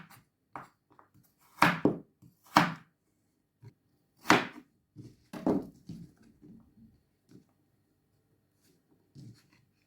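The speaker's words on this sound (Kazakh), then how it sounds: "Сәбізді де ұсақтамай, кішкене ірілеу қылып тураймын." Carrots are cut into large pieces with a knife, giving a handful of irregular chopping thuds, some sharp and loud and others soft taps, with pauses in between, close by and without talk.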